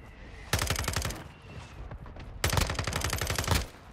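Rapid bursts of gunfire and blasts from a mortar strike in a video game come in two loud, dense volleys, each about a second long, separated by a quieter stretch of background battle noise.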